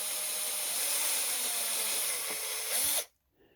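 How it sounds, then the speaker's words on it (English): Power drill boring into a 3D-printed plastic part, a steady high whine with broadband grinding for about three seconds, rising briefly before it cuts off abruptly into near silence. "So I have to make sure that the drill is very square."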